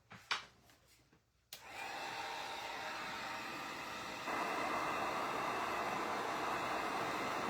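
Hair dryer switched on to dry a double-sided DIY wooden cutting board, after a few handling knocks: a steady, loud whooshing blast of air that keeps running and steps up slightly in intensity partway through.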